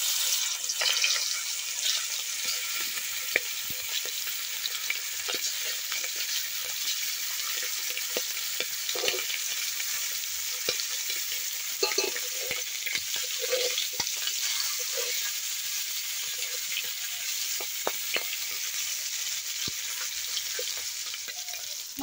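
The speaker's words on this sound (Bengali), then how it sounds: "তেলটা আমার গরম হয়ে গেছে, এবার আমি মাছগুলোকে দিয়ে দেব।" Kuche fish (eel) frying in hot oil in a kadai gives a steady, dense sizzle with scattered pops and crackles, close and continuous for the whole stretch, with no talking.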